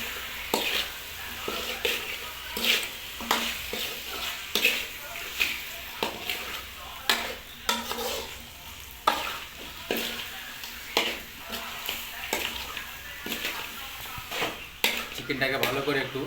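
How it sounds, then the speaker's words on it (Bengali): Chicken stirred and frying in a pan, with repeated spatula scrapes and clinks against the metal over a continuous sizzle, close and even in level throughout. "চিকেনটাকে ভালো করে একটু নেড়ে নিতে হবে।"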